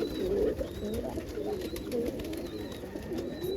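Carrier pigeons coo repeatedly in a loft during a morning corn feeding, soft low rolling calls overlapping one another steadily against a busy background of fluttering and shuffling.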